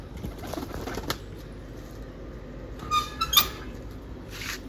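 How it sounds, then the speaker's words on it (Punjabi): A pigeon coos softly and briefly flaps its wings near a home pigeon loft, with small squeaky calls in the middle over quiet background noise. "ਕਬੂਤਰ ਇੱਕ ਆ ਗਈ ਥੱਲੇ"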